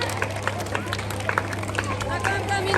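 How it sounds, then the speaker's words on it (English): A school karate show audience claps in a sustained, fairly dense patter alongside crowd murmur and chatter, with no single voice dominating. "Dear audience, the clapping should stop."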